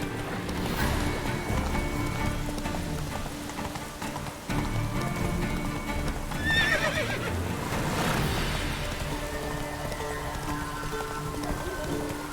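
Geralt's horse Roach from The Witcher 3 whinnies amid steady rain and game ambience, with a clear neigh near the middle and hoof clip-clop underneath.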